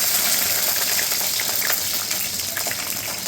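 Ingredients for garlic-chilli okra fry hitting hot oil in a pan, a loud, dense, continuous sizzle and hiss that holds steady throughout with no voices.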